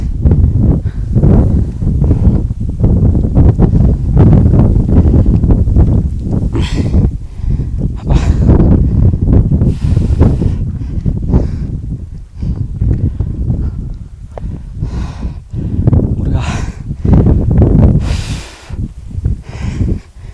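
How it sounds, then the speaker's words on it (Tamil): Strong, gusting whirlwind on a mountain trek up Kumara Parvatha near Kukke Subramanya, roaring and buffeting the microphone in loud, uneven surges throughout, with faint scuffs of movement. "இங்கே சூறாவளி வருது மக்களே"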